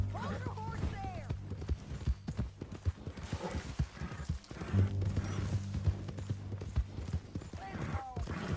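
Rhythmic horse hoofbeats in Red Dead Redemption 2 clip-clop steadily throughout, with voices talking over them and an occasional snort from the horse.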